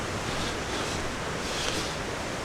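A river flowing among trees on Dartmoor gives off a constant, even rush of water, broad and unbroken, with no talking.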